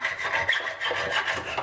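A hand saw cuts through a motorcycle part for a Royal Enfield motocross build, a near, rough rasping stroke repeated back and forth with no one speaking.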